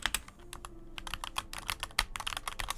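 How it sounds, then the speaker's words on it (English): Typing on a wooden computer keyboard, a run of soft, close clacks at an uneven quick rhythm with occasional louder strokes, heard alone. "My old keyboard was very noisy, but then I got a wooden keyboard"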